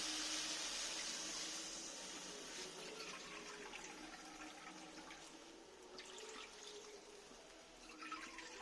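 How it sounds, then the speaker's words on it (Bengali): Water pours steadily into a pan of spiced potato curry, a continuous close rushing flow that eases slightly partway and then carries on with small splashes, with no voices. "এখানে আমি 2 কাপ পরিমাণে জল দেব।"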